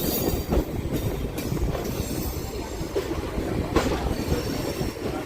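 A MEMU passenger train on the Visakhapatnam to Parvatipuram line rumbles along steadily from inside, with rhythmic wheel clatter and occasional light rattles.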